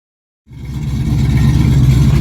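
Race car engine fires up after a moment of silence and settles into a loud, steady idle while warming up, rough and throbbing close by.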